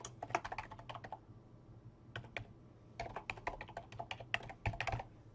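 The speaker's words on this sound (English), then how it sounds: "make sure once you enter the email address that you click Enter on the keyboard" Fingers type an email address on a computer keyboard, with quick clusters of clicky keystrokes broken by a short pause, close and fairly quiet over a low steady hum.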